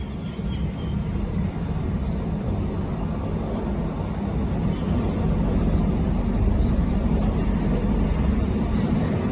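A military drone launched from Lebanon flies over Caesarea: a loud, continuous broadband engine roar that holds steady throughout without pause.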